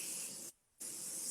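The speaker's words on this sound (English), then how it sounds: "Spray that on." Wella hair spray hisses onto hair in two bursts, a half-second spray, a brief pause, then a second longer spray, close and fairly loud.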